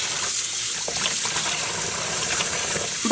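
Acid-dyed yarn mini skeins being rinsed, with steady running water and soft splashing close by and no talking.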